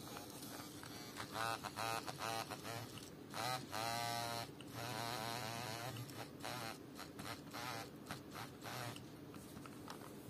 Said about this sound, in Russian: Вибрация тут слабая, но здесь есть несколько вариантов вибраций.